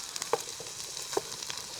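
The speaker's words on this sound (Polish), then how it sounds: "Teraz całość smażymy przez jakieś 5 minut." Steady broadband sizzle of lentil pierogi filling frying in a pan, with a few soft clicks of a utensil stirring; no voices.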